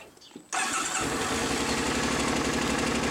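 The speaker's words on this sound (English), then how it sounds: "Get this bike started up." A motorcycle engine cranks briefly and catches, then settles into a loud, steady, close idle that dominates with no talk.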